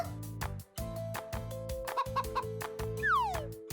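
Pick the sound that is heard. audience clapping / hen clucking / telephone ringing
hen clucking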